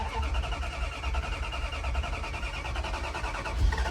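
An old truck engine being turned over during a restoration cranks with a steady rhythmic chugging and churning, a continuous mechanical drone with a thump near the end.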